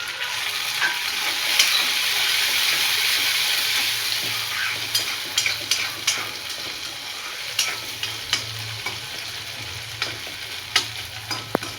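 Tomatoes tipped into onions frying in a pan for a green peas curry, a continuous bright sizzle with scattered clicks and scrapes of stirring, no talk.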